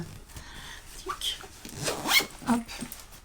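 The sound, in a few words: zipper being closed on a bag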